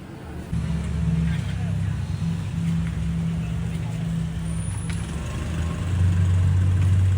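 A motorized tricycle engine runs close by with a steady low rumbling putter that swells louder toward the end, while people talk in the background.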